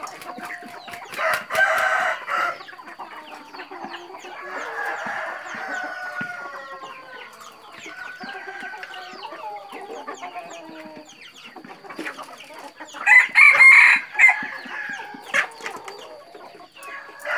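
Gamecock roosters crow and cluck loudly and close by, several long crows rising over steady clucking and farmyard chatter, with a strong burst of crowing near the end.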